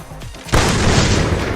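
A grenade goes off in the mobile shooter game Free Fire, a sudden loud boom that cuts in after a half-second and rumbles on with a broad crackling roar.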